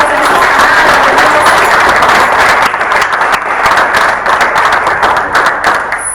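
A church congregation breaks into loud, sustained applause during a service, dense clapping throughout that thins slightly toward the end.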